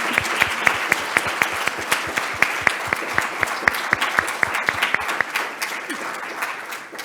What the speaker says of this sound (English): I want a really loud round of applause for all these lovely graduates